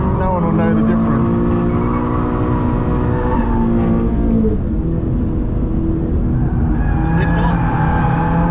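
A silver second-generation Subaru BRZ slides on track, its engine droning loud and close with shifting pitch as it drifts, while people talk over it.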